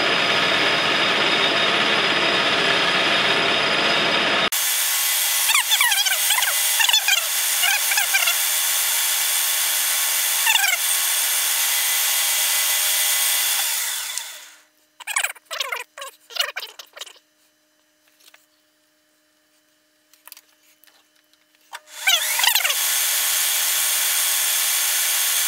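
A Tormach mill making a practice cut with a dovetail cutter, a loud continuous high machining whine that cuts out abruptly, leaving near silence broken by short bursts, then resumes.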